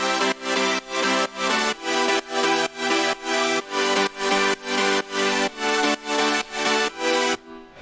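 Progressive house synth chords shaped by low-pass filter automation and sidechain pumping, loud and dense, pulsing in a steady rhythm of about two chord swells per second and stopping abruptly near the end.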